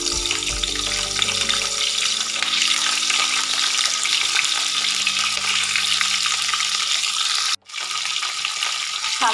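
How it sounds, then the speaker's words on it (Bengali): Cauliflower florets frying in oil left over from frying fish give a steady, crackling sizzle close by, running continuously with a brief sharp dropout near the end, and no voices. "মাছ ভাজার তেলে এবার ভেজে নেব ফুলকপি।"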